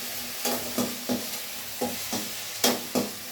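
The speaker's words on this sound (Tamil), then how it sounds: "இந்த மாதிரி நல்லா விடாமல் வதக்குனீங்கன்னா அந்த வெங்காயம், தக்காளி எல்லாம் நல்லா வதங்கி" Onions and tomatoes sauté in a pan with a faint, steady sizzle, broken by soft, regular scrapes of stirring about every third of a second.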